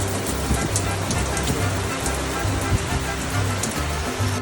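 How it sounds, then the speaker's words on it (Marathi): Heavy rain falls outside, a dense, steady hiss with scattered drip patter, heard from a balcony at close range with no voices. "बाहेर गेलो तर बाहेर जोरात पाऊस पडतोय."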